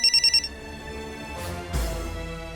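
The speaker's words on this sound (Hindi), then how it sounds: "संजय सर का फोन है।" A telephone rings with an incoming late-night call, giving a short burst of bright, evenly pulsed electronic ring tones at the start, followed by quieter room sound and a soft thump.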